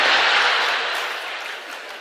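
Dense audience clapping at a talk, loud at first and gradually tapering off over a couple of seconds, with no voices over it.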